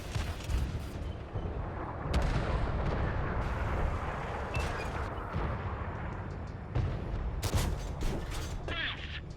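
Heavy tank cannon blasts and rumbling battle noise in the console game World of Tanks, with loud booming shots at intervals over a dense, continuous engine and combat roar.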